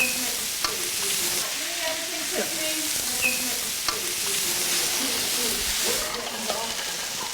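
Vegetables being stir-fried sizzle and hiss in a hot pan with a steady crackle, punctuated by occasional clinks and scrapes of stirring, up close.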